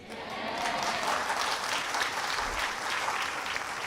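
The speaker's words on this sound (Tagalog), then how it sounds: "Pumalakpak naman tayo mga baliw." Audience applause at a talk, a sustained wash of clapping hands that swells quickly and holds at a steady, fairly loud level throughout, with no speech over it.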